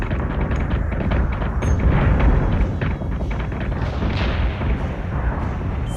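A warship in the space strategy game Battlestar Galactica: Deadlock fires its weapons, a dense barrage of heavy booms and rumbling blasts rolling continuously and loudly without pause.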